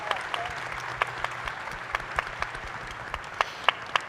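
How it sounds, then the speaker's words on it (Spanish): Festival audience applauding steadily for a panel, a dense wash of hand claps with a few sharper, closer claps standing out, alone without talk. "Un aplauso para ellos, por favor."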